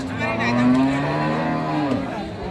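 Cattle at a rural cattle market moo loudly and close, one long drawn-out low call sustained for about two seconds, with no talk over it.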